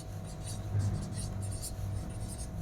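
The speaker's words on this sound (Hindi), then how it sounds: "तो लिखते हैं" Chalk or marker writing on a board during a Hindi language lecture, a steady scratchy scribble running throughout, fairly close and alone with no talk.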